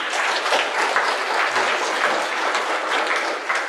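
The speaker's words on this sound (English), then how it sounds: "Give them a little round of applause there." Lecture hall audience applauding after a classroom demonstration, a full, even round of clapping that holds steady for several seconds with no speech.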